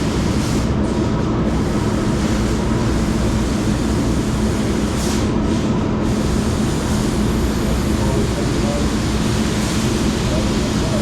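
A laser cutting machine runs with a loud, steady industrial roar that carries through the whole stretch, with faint brief hisses near the start and middle.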